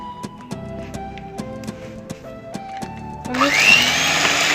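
Kitchen blender starting up to whip cream for a homemade McFlurry: a loud whirring roar kicks in near the end after a stretch of background music, steady and close.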